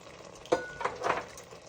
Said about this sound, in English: I'm going to stir it up.